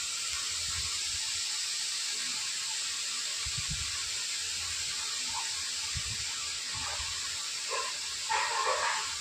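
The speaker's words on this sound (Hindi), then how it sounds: "तो चलिए उलट पलट के अच्छे से रोल को पका लेते हैं फ्रेंड" Potato rolls fry in a pan with a steady hiss and sizzle of oil. Soft thumps and clinks come as they are turned over, with faint sputtering near the end.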